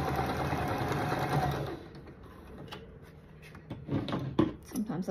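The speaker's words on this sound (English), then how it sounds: "So I'm going to sew them together." A sewing machine runs a quarter-inch seam joining half-square triangle quilt pieces, a steady close whir for under two seconds, then stopping and giving way to light clicks and fabric handling.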